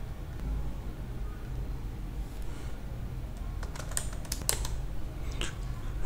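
Someone types on a computer keyboard while entering a password, a handful of soft, quick key clicks over a steady low hum, faint and with no talking.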